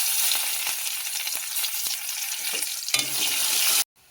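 Chopped onions and panch phoron sizzle loudly in hot oil left from frying puti fish, a continuous crackling hiss with occasional stirring clicks that stops abruptly near the end.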